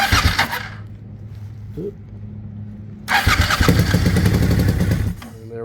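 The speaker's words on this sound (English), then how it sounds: "It started right up on that back cylinder." A 2001 Suzuki TL1000R motorcycle engine cranks, then catches and runs on its back cylinder only while the front cylinder fails to fire, a loud close uneven roar rising midway and cutting out near the end, with a brief spoken word.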